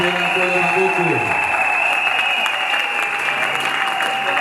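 A church congregation at a wedding blessing claps loudly and steadily, a sustained wash of applause over a tonal hum, with a voice heard briefly at the start.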